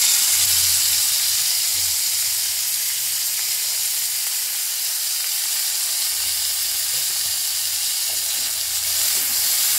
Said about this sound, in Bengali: তো কড়াতে আর একটু তেল দিয়ে দিয়েছি, এরপরে এই মাছগুলো দিয়ে দেবো।